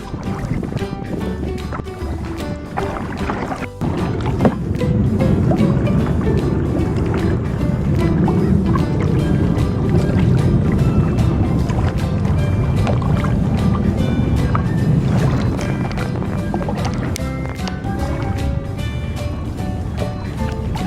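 Kayak paddling near Shelter Island, San Diego, with loud, close paddle strokes splashing and churning water continuously, plus wind buffeting nearby.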